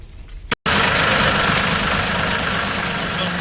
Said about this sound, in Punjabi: ਚੱਲ ਫਿਰ ਬਿੰਦੇ ਮਾਰ ਸੈਲਫ